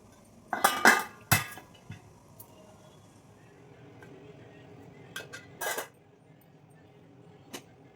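A metal lid set onto an idli steamer pot in a home kitchen, giving a few sharp clanks and clinks early on, then a couple of lighter metallic knocks later, close and fairly loud against a quiet background.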